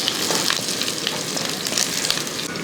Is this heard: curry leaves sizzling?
yes